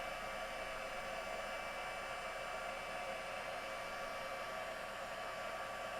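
A heat gun blows hot air in a continuous, even whoosh with a faint whine, holding steady and fairly soft for the whole stretch with no speech.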